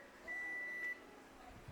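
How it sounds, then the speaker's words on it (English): A kitchen timer, used while a large Boston butt smokes overnight on a pellet smoker, gives a single steady electronic beep lasting about half a second over a quiet background. "That is the timer."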